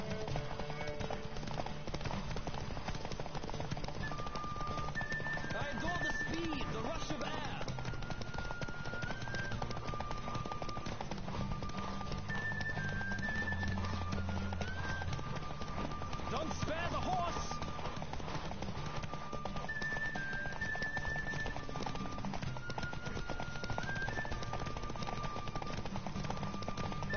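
Horses gallop in a PS4 racing game, a steady rapid clip-clop of hooves running throughout with background game sounds and a voice talking over it.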